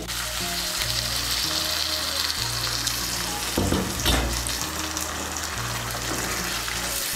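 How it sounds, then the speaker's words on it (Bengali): Hot water hits a potato and eggplant curry in the pan and sets off a loud, sustained sizzle. A burst of bubbling hiss swells midway, and a low steady hum runs under it. "এর মধ্যে আমি দিয়ে দিচ্ছি 1 কাপ গরম জল।"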